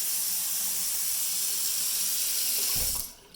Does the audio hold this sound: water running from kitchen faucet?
yes